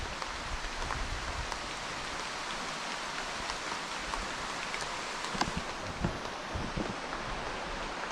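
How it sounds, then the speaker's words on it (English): Heavy rain pours steadily in Nepal, a dense hiss of drops with occasional louder drips and patters on nearby leaves. "Once again it's raining, absolutely peeing it down"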